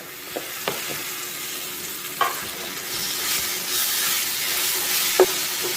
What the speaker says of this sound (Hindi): इसे 1 से 2 मिनट तक भूनेंगे मसाले को